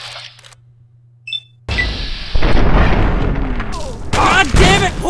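A loud, sudden shotgun blast from a video game booms out after a quiet stretch, followed by further heavy impacts and crashing game sounds.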